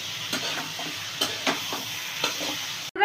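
Taro leaves with prawns sizzle steadily in a pan while a spatula scrapes and stirs in repeated soft strokes, with no talking.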